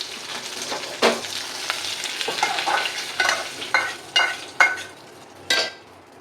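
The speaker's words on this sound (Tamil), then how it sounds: "கொஞ்சம் கடுகு போட்டிருக்கேன் கடுகு நல்லா பொரிட்டு கடுகு பொரிஞ்சிட்ருக்கு" Mustard seeds splutter and pop in hot oil in a kadai, a steady crackling fry broken by several sharp, loud bursts spaced a second or so apart.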